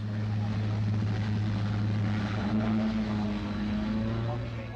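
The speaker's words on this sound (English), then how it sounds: "Once down, the Turbo Porter can reverse rapidly, ideal for the short runways of the Swiss mountain slopes." Pilatus Turbo Porter turboprop reversing after landing at the 1976 Farnborough air show, a steady droning propeller hum with a low tonal throb, heard under a narrator's voice.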